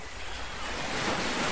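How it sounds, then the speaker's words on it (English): Choppy water slaps and washes around a small boat. A steady, noisy surge of waves and wind is heard up close, with no voices. "Really choppy water, though."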